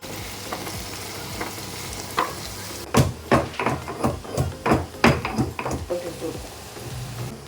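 Sliced onions and salt frying in a pan, a continuous sizzle broken by a run of rhythmic scraping stirs and clinks of a utensil against the pan, close and fairly loud.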